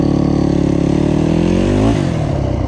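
GAS GAS EC250F enduro motorcycle with a rekluse clutch, its engine loud and close, a steady buzzing run that climbs in pitch, drops suddenly, then settles again.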